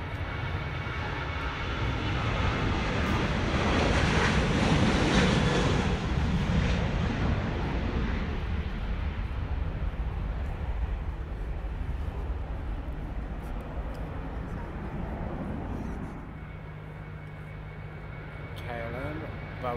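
A Transavia Boeing 737-800 roars past at Schiphol, a loud broadband jet engine rush swelling and then slowly fading into a steady distant rumble.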